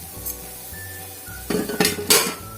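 A potato samosa filling with green chillies and coriander is mixed in a pan, a few loud scraping, clinking strokes of a utensil against metal coming in quick bursts after a quiet start, with no talking.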